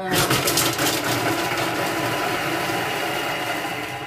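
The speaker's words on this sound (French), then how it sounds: "Et mixer 5 secondes vitesse 5 pour" A kitchen robot blends garlic at speed 5 for five seconds, giving a loud continuous whirring motor roar that stays steady and fades slightly at the end.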